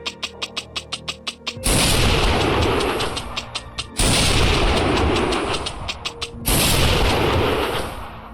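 Lahti L-39 anti-tank rifle fired in a video game: after a quick series of light mechanical clicks, three loud, booming shots ring out a couple of seconds apart, each with a long reverberant tail.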